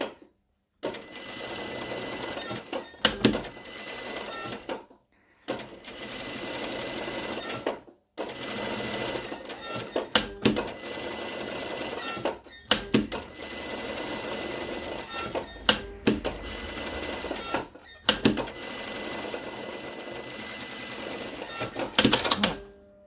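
A sewing machine runs a shirt seam in several loud close bursts of rapid stitching, each stopping abruptly with short silent gaps between runs.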